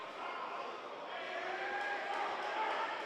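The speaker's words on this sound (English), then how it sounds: "The crowd a little anxious, a little restless" Restless crowd murmur filling a high school basketball gym during overtime of a tied Holy Spirit Prep vs. Wheeler tournament game, a steady broad hubbub of many voices with faint shoe squeaks, continuous and moderately loud.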